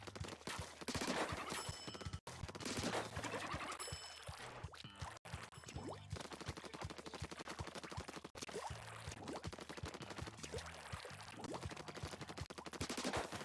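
Splat Dualies fire in rapid continuous bursts during a Splatoon Salmon Run match, mixed with splattering ink sounds and dense game music and effects throughout.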